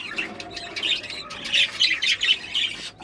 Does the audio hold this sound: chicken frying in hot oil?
no